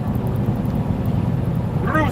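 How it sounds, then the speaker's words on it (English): A motorboat drones past on open water, a low, steady engine rumble mixed with wind buffeting the microphone, and a voice briefly speaks at the end. "Motorboat."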